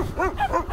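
A large dog barks at someone walking through a rural backcountry property, a few close, loud, rough barks with harmonic tone in quick succession.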